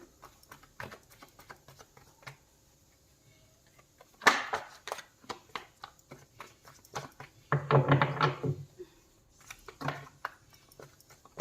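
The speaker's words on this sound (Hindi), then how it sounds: "पहले कार्ड शफल कर लेते हैं" Tarot cards shuffled by hand in a quiet room, with soft scattered taps and two louder riffling bursts of shuffling close by, no talking.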